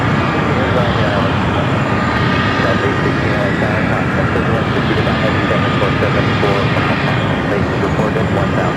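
A United Airlines jet arriving from Honolulu at Los Angeles International Airport gives off a steady, loud, broad roar that fills the whole stretch without letting up.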